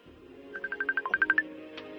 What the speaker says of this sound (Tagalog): Bagti mong cellphone.